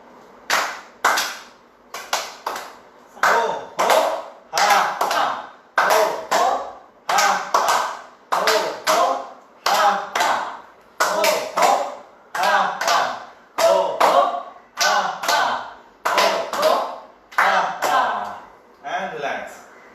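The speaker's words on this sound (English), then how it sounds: "Now side clapping." Rhythmic side clapping in a laughter yoga session: about sixteen loud, sharp bursts of clapping fill the stretch in a steady beat, with voices and laughter mixed in between.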